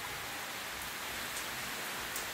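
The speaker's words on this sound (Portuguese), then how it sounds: "a chuva moderada, graças a Deus" Moderate rain falling over cacao trees and agroforestry yards in Valença, Bahia, Brazil, a soft continuous hiss with scattered drop patter, faint and steady, heard alone.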